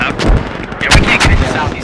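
Mortar strikes in a tactical multiplayer shooter game, a rapid cluster of heavy booming impacts rolling together, loud and close, with a voice briefly underneath.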